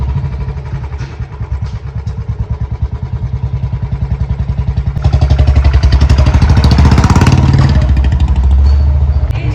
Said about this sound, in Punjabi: ਲੈ ਕੁਦਰਤ ਨਾਲ ਪ੍ਰਤੀਕ ਨੇ ਬੁਲਟ ਲੈ ਲਿਆ